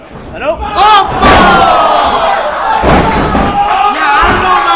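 A wrestler is flattened by a clothesline in a wrestling ring, a loud thudding slam followed by more heavy bumps on the mat as a roaring crowd cheers and a commentator speaks over the noise.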